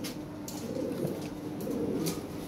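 Pigeons cooing in a breeding loft, with low repeated throaty coos close by and faint flutters and other bird sounds in the background, no speech.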